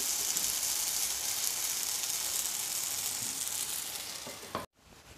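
Ivy gourd (kovakka) slices sizzle and fry crisply in oil in a pan, a loud continuous close hiss with faint stirring scrapes, cut off abruptly near the end.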